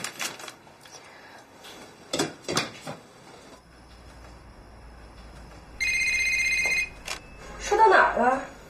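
A telephone rings once, a short electronic trill that stands out clearly in an indoor drama scene. People talk before and after it, along with a few soft knocks and handling sounds.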